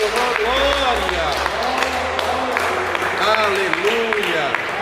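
A church congregation claps in praise, a steady, fairly loud stretch of applause under a voice and singing, which continue throughout.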